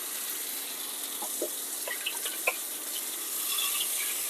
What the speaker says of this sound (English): let's wash the cutting board again and the knife that we've been using.